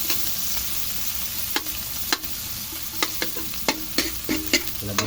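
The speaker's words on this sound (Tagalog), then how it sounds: "magigisa na tayo ng ating karne" Pork sizzling as it is sautéed in a hot pan for adobong sitaw, a steady close fry with repeated sharp clicks of a utensil stirring and scraping the pan.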